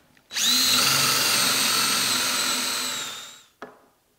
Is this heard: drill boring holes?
yes